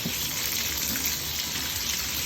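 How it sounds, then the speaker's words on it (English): Water gushing steadily from a tap, a continuous close hiss with no pauses. "I'm gonna turn the water on just so it's not cold"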